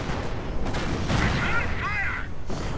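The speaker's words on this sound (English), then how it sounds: "we're seeing artillery getting called in" Artillery strikes land during a Company of Heroes battle against a fortified line with Panzer forces, a rumbling barrage of dull booms and crackling blasts that runs steadily beneath a commentator's excited voice.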